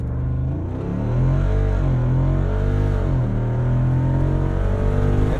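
2024 Jeep Wrangler 392 V8 accelerating hard to 60 mph, a loud, close engine roar climbing through rising revs with audible gear changes, continuous and without talk.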